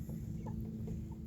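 Chickens cluck softly in a few brief, scattered calls over a steady low rumble of background noise outdoors.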